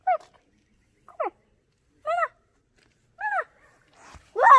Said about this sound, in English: This is our puppy